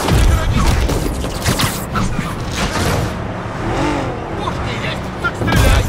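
A car engine revs and roars with tires squealing in the video game Marvel's Spider-Man on PS4 Pro, game-style driving sounds mixed with music and a voice talking over it.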